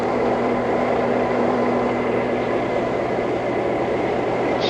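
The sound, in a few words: RFK campaign train at a station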